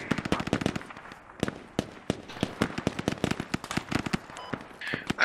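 Rapid, close gunfire from a tactical military shooter game, Squad, on the Kokan Valley map, with sharp cracks in fast irregular bursts and a few scattered single shots, loud and without talk.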